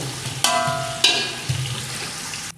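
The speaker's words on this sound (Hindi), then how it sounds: "इत्थे हुण प्याज फ्राई कर लेने।" Onions frying in half a litre of hot oil in a cooking pot, a steady soft sizzle with a few brief metallic clinks from the pot, close by and with no talking.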